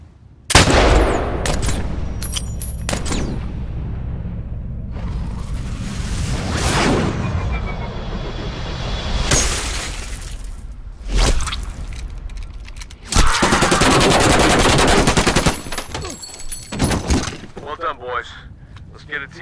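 Gunfire in Medal of Honor Warfighter on PC: sharp, loud shots and bursts scattered through a tense firefight, with crashes and breaking debris, and voices talking between the blasts.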